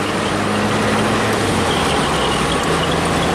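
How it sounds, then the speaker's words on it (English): A 1993 Saab 9000 CSE Turbo with a manual gearbox accelerating through its gears, heard from inside as a loud, continuous engine and road drone that fills the whole stretch without a break. "Alright, shift some gears."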